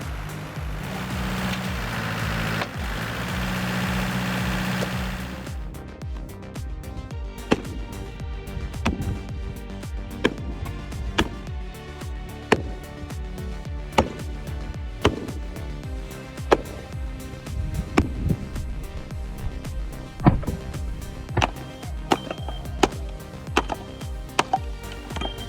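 A homemade firewood processing machine runs with a steady mechanical drone, and sharp knocks and cracks recur as wood is split, after a brief burst of louder rushing noise at the start.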